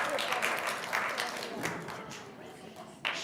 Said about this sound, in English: Round of applause for this beautiful